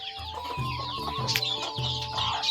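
Chickens cluck in short repeated bursts close by in a chicken shed, with faint rustling and a quiet background hum.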